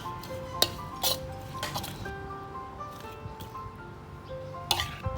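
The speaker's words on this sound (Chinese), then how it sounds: "食材全部放完了，就可以开始搅拌了。" Ingredients for a Thai spicy pork salad (larb) being mixed, with scattered clinks and knocks of utensils against a bowl over a low steady background hum, a few sharper taps near the start and end.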